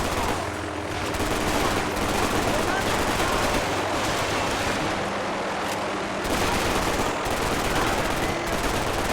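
Heavy gunfire fills a Max Payne 3 shootout, revolver shots mixed into a dense, near-continuous loud barrage with brief lulls, and someone talking over the din.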